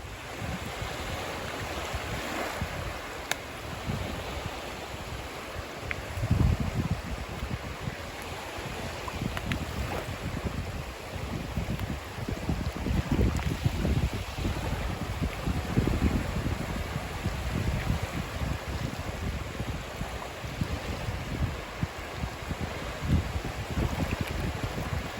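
Surf washing onto the beach at Lovers Key State Park, Florida, a steady broadband wash of waves with wind rumbling across the microphone, continuous and fairly close, no talking.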